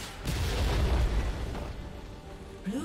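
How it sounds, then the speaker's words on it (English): A deep, booming explosion as an inhibitor is destroyed in League of Legends, rumbling heavily for about a second before fading under lighter game effects. "Blue team's inhibitor has been destroyed"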